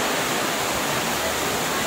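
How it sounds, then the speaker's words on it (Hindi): Heavy rain pours down steadily on a waterproof Ganpati pandal, a dense, continuous broadband roar with no breaks and no voices. "क्योंकि बारिश बहुत तेज़ हो रही है"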